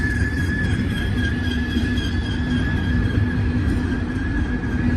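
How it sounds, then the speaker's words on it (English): A BNSF freight train rumbles steadily nearby, a constant low roar with faint metallic tones and a steady hiss, no voices. "It was waiting for this train to come down and pass it and get in front of it."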